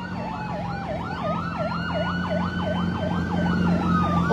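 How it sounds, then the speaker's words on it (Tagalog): A wailing siren rises and falls in a steady rapid yelp, loud and continuous beneath a low engine hum, heralding a religious procession along a seawall baywalk in front of a church. "O madunggan na ninyo no nga naanay sirena nga nagpaabot kay doon na ang ato ang prosesyon."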